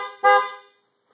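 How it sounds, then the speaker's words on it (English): A single short honk from the regular stock horn of a Duramax truck, loud and close, fading quickly into silence. "This is the regular horn."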